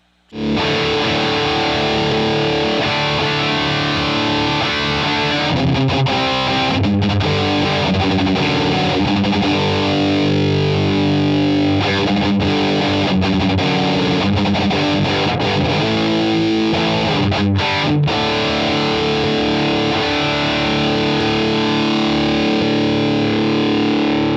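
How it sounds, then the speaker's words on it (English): A heavily distorted electric guitar plays continuously at high volume, thick sustained chords and riffs with a saturated, fuzzy tone. "Actually really liked having the distortion"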